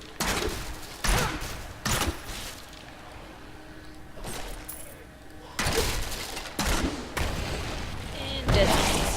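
Demon Hunter's Evasive Fire attack in the Diablo 3 beta, sounding as bursts of sharp, crackling shots with impact booms, repeated in several clusters with quieter game ambience between them.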